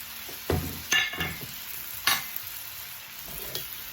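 Yellow, red and green bell peppers tossed and sautéed in a pan for jerk shrimp pasta, with a steady sizzle and a few sharp scraping clatters of the pan and utensil.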